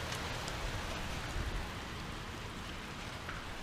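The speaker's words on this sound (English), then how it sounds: "this is heavy rain" Heavy rain pours down steadily, a dense hiss of drops drumming on surfaces without pause and with no voices.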